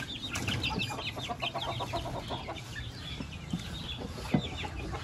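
Chickens, including a Chinese hen, cluck and chatter in a farmyard as they are let out to feed, a busy overlapping run of close clucks and calls.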